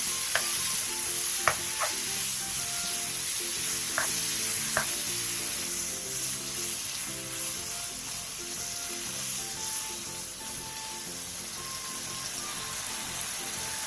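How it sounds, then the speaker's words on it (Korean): Thin-sliced marinated pork belly stir-fries in an oiled pan over high heat, giving a steady close sizzle with occasional clinks and scrapes of a utensil against the pan near the start. "넓은 팬에 기름을 두른 뒤 재워둔 대패 삼겹살을 넣어 겉면이 익을 때까지 센 불에서 볶아주세요"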